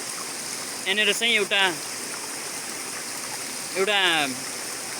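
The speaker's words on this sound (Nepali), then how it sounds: "पानी पास भइसकेपछि सिधै यसरी यो कुलाबाट निस्किन्छ जान्छ।" Water rushes steadily through the channel of a hillside water mill in Nepal, a constant broadband flow running throughout while someone speaks briefly over it.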